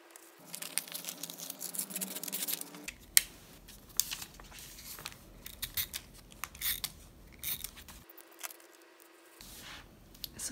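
Scissors snipping through paper while a piece is cut out for a scrapbook page, close and quiet, a steady run of crisp cuts with faint paper rustling and handling between them.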